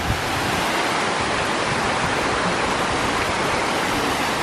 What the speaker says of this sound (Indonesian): Nah ini ada air terjun mini, jadi kita mampir bentar.